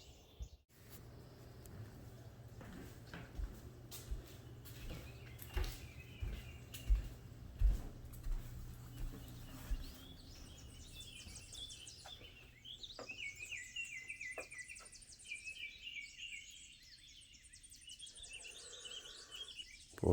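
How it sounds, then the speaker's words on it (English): Birds chirp and twitter outdoors on a cool, misty morning after rain, scattered calls early and then a busier run of repeated bright notes in the second half, with a low background hum beneath. "it sure sounds like the birds"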